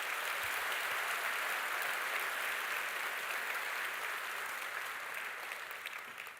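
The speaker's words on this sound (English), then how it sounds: "A round of applause to them, please" At a university graduation ceremony, the audience gives steady, dense applause for the musicians, including the national anthem singer and a saxophone soloist, a continuous hall-wide clapping that eases slightly toward the end.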